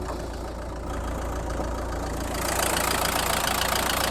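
A 2016 Renault Talisman's 1.5 dCi diesel engine idles with a steady, knocking rumble, close by, growing slightly louder and brighter halfway through.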